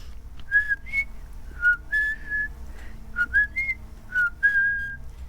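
Someone whistles a little bird-like tune, short chirpy notes and brief sliding phrases with gaps between them, close and clear over a quiet background hum.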